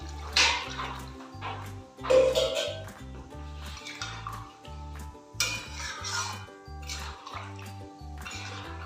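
A little water splashes and trickles over boiled green peas in a separate bowl, in short uneven pours with light clinks of a vessel, over a soft, steady low pulsing background.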